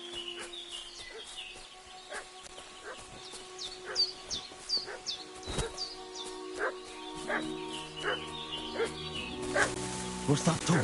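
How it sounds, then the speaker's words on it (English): A dog barks repeatedly in Kingdom Come: Deliverance 2, sharp yaps in an uneven rhythm over a steady outdoor bed of bird chirps, with a low tone rising toward the end. "What's that dog making such a fuss about?"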